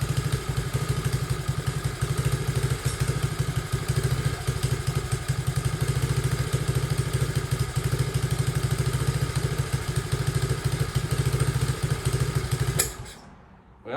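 A small motorbike engine idles steadily for about thirteen seconds, a close, even low rumble with faint clatter, then cuts out abruptly near the end.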